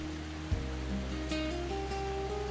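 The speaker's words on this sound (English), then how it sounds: "The waterfall roars constantly." Roaring glacier-fed waterfall in an Icelandic canyon, heard as a constant dense rush of water with a steady low rumble, overlaid by a faint tonal hum.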